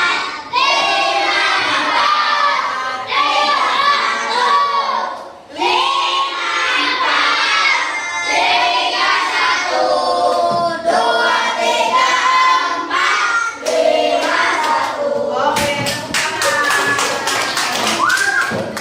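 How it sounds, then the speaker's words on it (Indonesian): A group of second- and third-grade children chants loudly together in an elementary school classroom, then breaks into a burst of quick, rhythmic hand claps near the end. "Oke, tepuk tangan."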